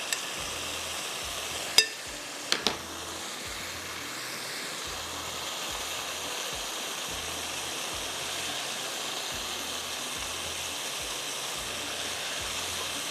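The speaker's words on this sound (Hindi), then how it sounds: "फिर ये पानी डाल के छोड़ देंगे।" Water poured into onion masala frying in a pan for mutton gravy, a steady hissing sizzle that runs throughout with a few sharp clinks near the start and no voices.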